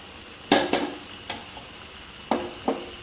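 A spatula stirs fried eggs into sizzling ginger-garlic masala with onion in a pan, five quick scraping knocks against the metal spaced irregularly over a soft bubbling fry, close up and wordless.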